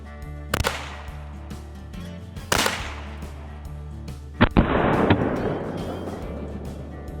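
Henry US Survival Rifle .22 LR firing outdoors at a squirrel target, two sharp cracks spaced apart, then a pair of close shots with a ringing tail fading away.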